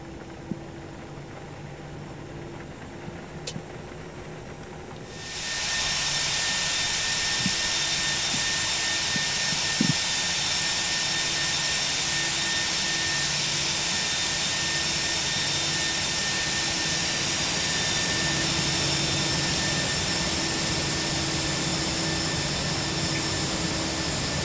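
ToLiss A319 airliner jet engines spool up in X-Plane 11 while taxiing from Kathmandu toward the runway, a sudden loud broadband roar with steady high whine after a quiet cockpit hum, holding continuous and constant.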